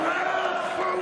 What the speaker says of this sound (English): the crowd starts singing his name